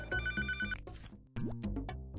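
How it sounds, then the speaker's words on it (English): A telephone rings in a busy pizza kitchen, giving rapid repeated electronic trills in short bursts, close and clear, with kitchen clatter around it. "And the phone's still ringing, man."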